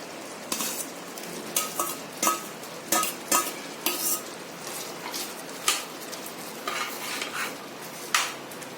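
Paneer is added to cooked spinach curry in a pan and stirred in, giving repeated spoon clinks and scrapes against the pan over a soft sizzle. The clip is fairly close, with no talking.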